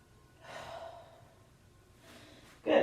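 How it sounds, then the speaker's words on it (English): Slow, deep breaths during a traditional Pilates stretch: a soft airy exhale, a pause, then a quieter breath and a sharper intake at the very end, all close by, with nobody talking. "stretching out underneath the armpit and breathe. Nice deep breaths."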